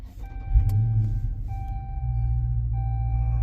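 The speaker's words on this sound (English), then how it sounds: "we're gonna go ahead and start the car" Car engine cranking and catching with a short loud burst, then settling into a steady low idle rumble close by, with a few faint chimes and no one talking.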